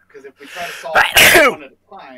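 A single sharp sneeze bursts out in the middle of nearby conversation, loud and brief, with talking before and after it.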